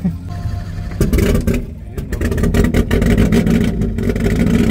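A car with a side-exit exhaust at an outdoor car meet starts and revs repeatedly, loud and close, with engine surges rising and falling while people talk nearby.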